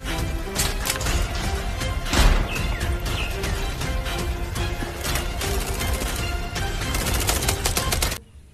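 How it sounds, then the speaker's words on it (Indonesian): A toy pistol fires a rapid, continuous burst of loud clattering shots for about eight seconds, then cuts off abruptly into silence. "Ini adalah tembak pistol."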